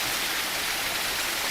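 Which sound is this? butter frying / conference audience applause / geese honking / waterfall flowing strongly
waterfall flowing strongly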